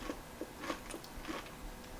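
Someone bites and chews crispy homemade fried chicken made with sourdough, giving quiet, repeated crunches at close range.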